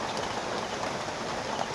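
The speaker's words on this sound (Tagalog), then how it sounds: "Lakas na naman ang ulan" Dense, steady rain hisses loudly without a break, a continuous heavy downpour close by with no voices.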